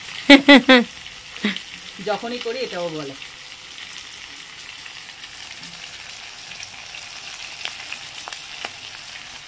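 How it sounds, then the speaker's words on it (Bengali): Ginger is grated into a hot pan with fried garlic for a prawn dish and fries with a soft, steady sizzle, while someone talks briefly over it at the start. "এবার দিয়েছি আদা, এবার গ্রেট করে দেবো। ভাই বলে লাইভ ভাজা হচ্ছে"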